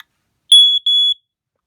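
A Kidde KD134A home smoke alarm under test gives two short, piercing high-pitched beeps in quick succession, loud and close, with silence before and after.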